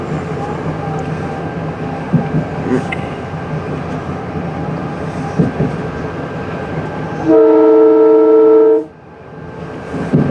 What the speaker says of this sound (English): That's a Metro diesel.